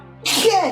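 A single sharp human sneeze bursts out close and loud after a brief quiet moment, with a short spoken word right around it.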